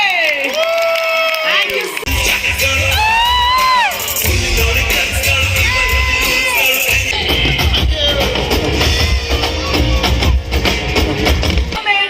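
A concert crowd at a musical night in Kollegal, with sustained applause and cheering rising beneath loud singing and amplified music, voices yelling throughout.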